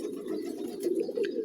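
Domestic pigeons coo in a low, soft, continuous rolling murmur, close by, with no talk and nothing else over them for the brief stretch.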